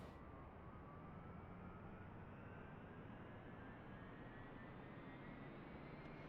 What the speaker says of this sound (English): Alright, there it goes. Engine start.